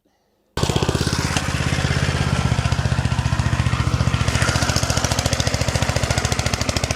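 A garden tractor pulling a plough through a vegetable garden runs loud and close, its engine hammering out a steady rapid knock without a break from start to finish.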